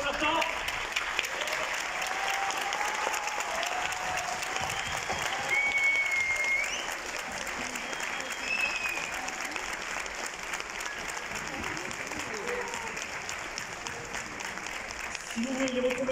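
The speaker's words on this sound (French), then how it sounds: "Et tout le monde, surtout l'applaudir bien fort Carole et Stéphane" Sustained audience applause at a French dubbing conference featuring Naruto and One Piece voice actors, dense clapping from a large crowd filling the room steadily, with voices heard faintly beneath.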